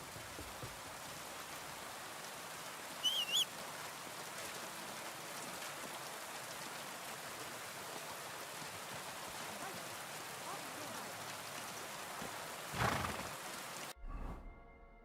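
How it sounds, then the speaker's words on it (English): Steady rain falling in the video game Kingdom Come Deliverance II, a soft, continuous patter on surfaces that lasts throughout before cutting off abruptly near the end. "We've got enough rain."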